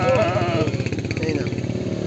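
Sheep bleat at a livestock market, a wavering cry up front followed by rough repeated bleats over a steady engine-like rumble and voices in the background.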